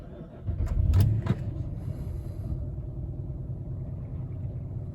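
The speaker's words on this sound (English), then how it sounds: "let's start the car and see if we've managed to do that" A 2011 AWD Dodge Charger engine cranks briefly with a couple of clicks, then catches and settles into a steady low idle rumble.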